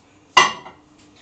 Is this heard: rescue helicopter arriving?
no